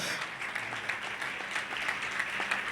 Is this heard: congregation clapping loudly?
yes